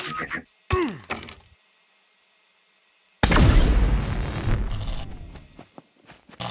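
EMP grenade going off in the video game SCUM, a sudden loud blast with a crackling, shattering burst that decays over a couple of seconds, with brief louder game sounds just before it.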